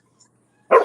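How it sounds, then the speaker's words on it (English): A dog gives a single short, loud bark close by after a near-silent pause, preceded by a faint tiny noise. "For people that can't see, Jen's dog's on the screen."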